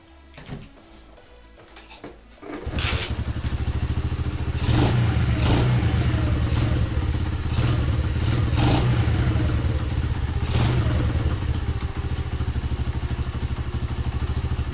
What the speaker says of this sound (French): on va faire démarrer le Dax.